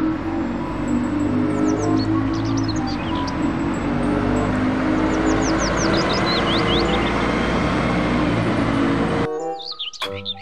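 A toy city bus gives off a steady, loud engine-like drone with faint chirping tones over it, running continuously and then cutting off abruptly near the end.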